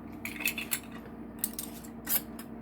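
Metal lids and screw rings go onto glass canning jars of preserved red onions, giving a few faint, light metallic clinks and scrapes over a steady low hum in a quiet kitchen.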